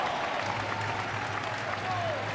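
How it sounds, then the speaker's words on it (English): A 6,000-strong Davis Cup tennis crowd cheers and applauds a Canadian win over Spain, a dense, steady roar of clapping and shouting with no break. "the crowd reached fever pitch as Dankovic completed the job to put Canada within a match of beating the #1 ranked tennis nation"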